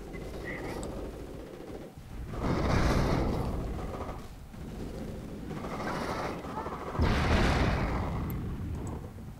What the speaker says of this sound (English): Base is under enemy fire.